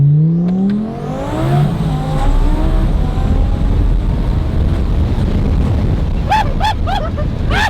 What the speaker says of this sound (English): That's turbo.